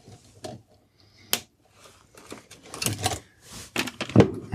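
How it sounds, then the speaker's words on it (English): Cable ties are snipped while fitting a new fuse panel in a G Body Porsche 911, a series of sharp close clicks and snaps among rustling and handling noises, with no talking. "So I'm going to cut my cable ties."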